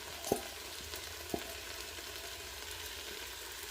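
Chopped jalapenos and garlic frying in a pan for a keto cabbage soup, a steady low sizzle with two brief clinks of a utensil early on, faint and close.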